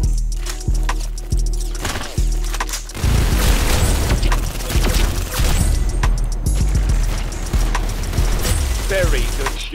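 Video game gunfire: a few evenly spaced single shots, then a burst of dense rapid firing and impacts, with voices talking over the action.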